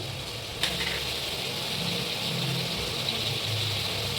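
Lentils cook in hot oil with turmeric and salt for avrekal sambar, giving a continuous, even sizzle and hiss with one brief clink near the start.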